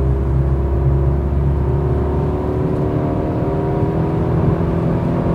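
A Fiat 500 engine buzzes steadily from inside the car as it accelerates on a first drive, a loud, continuous drone with road rumble beneath and no talking.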